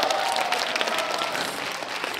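A crowd at a year-end outdoor community concert in Boeun claps continuously, a dense, even wash of many hands at moderate distance with no voices over it.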